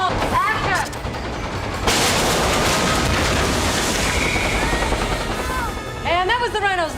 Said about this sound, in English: the effects guys actually built a big steel rhino and rammed it through that wall for us